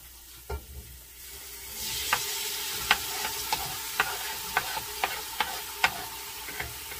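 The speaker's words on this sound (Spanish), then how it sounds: "Le vamos a echar el jitomate y le vamos a mover." Tomato added to a hot frying pan and stirred: a loud sizzle swells after the first second and continues, with sharp scrapes and clacks of the utensil against the pan at irregular intervals, no talking.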